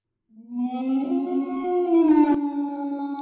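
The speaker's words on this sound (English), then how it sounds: "A lone, bone-chilling howl split the sky" A single lone, bone-chilling howl rises out of silence and holds as one long, wavering note, loud and clear with nothing else around it.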